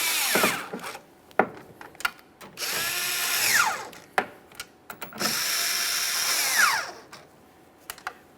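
Power tool driving in the mirror hardware on a 1999-2006 Chevrolet Silverado 1500, whirring in three sustained runs that wind down with falling pitch, broken up by close clicks and knocks.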